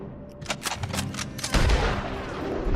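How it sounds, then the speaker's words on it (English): Gunfire in the Red Dead Redemption II video game: a rapid burst of several loud, close shots in quick succession, followed by a heavier boom that trails into a rumbling, echoing wash. "Nice shooting back there."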